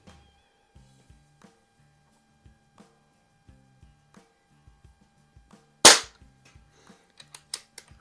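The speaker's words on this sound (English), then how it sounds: "I am shooting my Crosman 1701P silhouette" A Crosman 1701P silhouette air pistol fires a wadcutter pellet with one sharp, loud crack at close range, preceded by faint scattered ticks and followed by a few lighter clicks.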